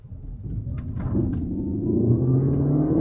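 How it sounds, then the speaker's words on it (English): A 2025 Cupra Formentor plug-in hybrid in Cupra mode accelerates hard with tires spinning, its engine rumble rising steadily in pitch over a few seconds, close and loud inside the cabin, no voices. "I spun a lot of tires and had a lot of traction control issues"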